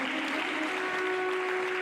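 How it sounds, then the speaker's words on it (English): Lecture audience applauding the lecturer, a steady, even wash of many hands clapping at moderate loudness with a faint steady hum beneath it. "lecturer deserves another round of applause."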